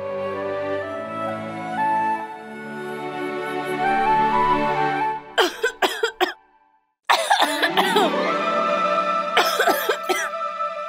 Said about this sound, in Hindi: खांस क्यों रही हो?